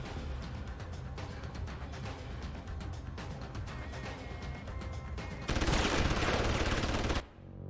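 Sustained gunfire from the video game Deus Ex: Human Revolution, a dense, loud stream of rapid shots and clatter that swells into a harsher burst near the end before cutting off abruptly.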